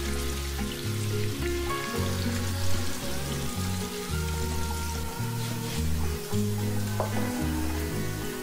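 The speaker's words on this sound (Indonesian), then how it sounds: "goreng sampai berwarna kecoklatan ya" Steady oil sizzling and crackling from tofu frying in a pan, continuous and close, with a low background hum and no talking.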